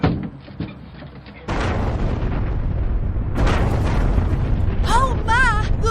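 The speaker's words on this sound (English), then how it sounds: "The building exploded." A building blows up in a sudden loud, sustained rumbling blast that swells again partway through, with voices talking over the roar.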